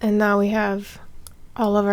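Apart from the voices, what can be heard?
No everyday noises stand out.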